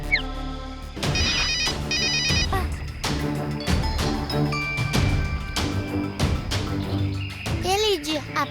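Cartoon telephone ringing in repeated electronic bursts, bright and loud, mixed with children's voices talking and other busy cartoon sound effects.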